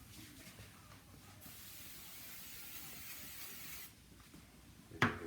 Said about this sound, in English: Just a little bit of spray.